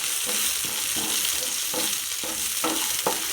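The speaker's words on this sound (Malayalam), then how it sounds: "ഇതേപോലെ ഉള്ളി വഴറ്റുക, അതിലേക്ക് കറിവേപ്പിൻ്റെയും പച്ചമുളകും ഇതെല്ലാം ഇട്ട് കൊടുക്കുക" Onions frying in a pan with curry leaves, green chili and coconut pieces give a steady close sizzle, broken by regular stirring strokes about every half second.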